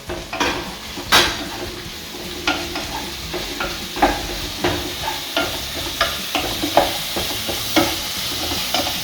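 Chopped methi leaves and potatoes frying in a pan, with repeated scraping stirs of a spoon against the metal over a continuous soft sizzle, loud and close.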